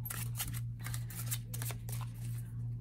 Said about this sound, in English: I have to cut my deck.